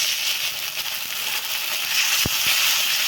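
Masala frying in a pan for a potato and egg curry just after a splash of water, giving a loud, continuous hiss of sizzling with a single sharp knock near the end.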